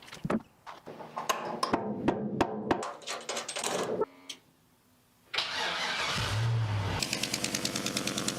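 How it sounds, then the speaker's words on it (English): A V8 in a restored Chevrolet C10 pickup cranks in a series of rhythmic bursts, pauses, then catches and settles into a running idle with a fast, regular ticking from the exhaust headers. "At engine startup, a ticking noise is detected coming from the headers."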